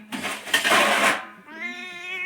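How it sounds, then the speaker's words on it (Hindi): A pet cat named Munnu meows at home. There is a short noisy burst and then a clear harmonic meow, close and moderately loud, with no talk over it. "देखो मेरी बिल्ली कैसे बात करती"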